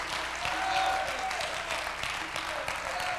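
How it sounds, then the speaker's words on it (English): A church congregation claps hands in steady, sustained applause that fills the room throughout, with a voice talking beneath the clapping. "I think you ought to clap your hands and give God praise, for you know who he is."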